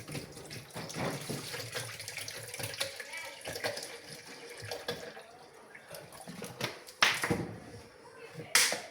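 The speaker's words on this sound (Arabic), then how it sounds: "غادي ندير عليهم الماء بارد" Cold water from the fridge, about a litre, is poured over sugar and semolina, giving a steady splashing, running-water rush with a sharper gush near the end and no talking.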